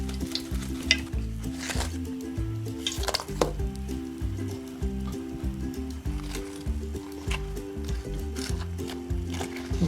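Flour khaza dough pieces fry in hot oil with a steady, close sizzle, and a utensil stirs through them with occasional clinks.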